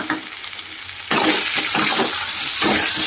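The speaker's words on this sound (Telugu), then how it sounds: "తర్వాత ఒకసారి కలుపుకున్నామండి." Chicken with masala is stirred in a pan for a hotel-style chicken roast. It starts quiet, then a loud steady sizzle sets in, with rhythmic scraping strokes of the spoon and no voices.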